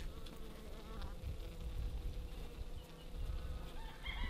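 Honeybees buzz steadily inside a weakened hive that has come through winter on a far-northern farm, a continuous close drone with a faint rooster crowing in the distance.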